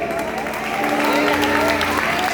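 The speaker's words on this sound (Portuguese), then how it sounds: "Isso, aplauda ele." A church congregation applauds during a Portuguese-language prophetic sermon, with loud, continuous clapping and crowd noise lasting the whole short stretch, and a tonal hum running underneath.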